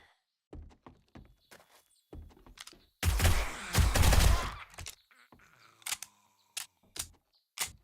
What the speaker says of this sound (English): I'm gonna try to just rush the place with an automatic weapon.